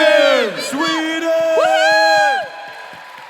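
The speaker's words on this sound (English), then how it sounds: "let's give them a round of applause" A crowd at The Great Smoke 2025 live event cheers loudly and chants with sustained shouting voices for Team Sweden, the yelling rising and falling across the moment, with only scattered clapping.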